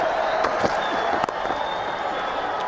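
A big cricket crowd at a 2003 World Cup match between India and Pakistan roars and claps steadily in the distance, a dense wash of cheering with a few sharper shouts.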